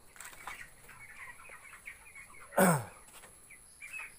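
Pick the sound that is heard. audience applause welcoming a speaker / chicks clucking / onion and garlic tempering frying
chicks clucking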